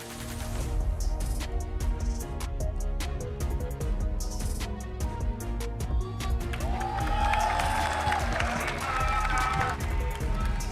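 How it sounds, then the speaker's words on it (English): Audience at an MPL MY Season 15 esports match in Malaysia cheers and applauds loudly and continuously, a dense crowd roar with clapping that swells toward the end, under music. "once again, a round of applause to Ocean Black"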